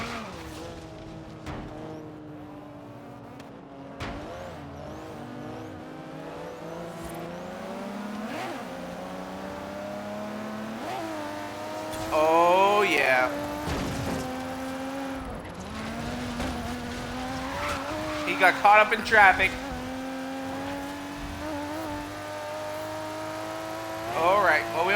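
A Ford Focus RS engine revving and accelerating through gear changes while driving in the racing game Forza Horizon 3, with tire squeal and bursts of higher revs, as someone talks over it.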